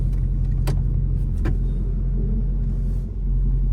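A 6.7 Powerstroke diesel pickup truck cranks and starts nearby, a steady low engine rumble with a couple of brief sharp transients early on and a slight dip near the end.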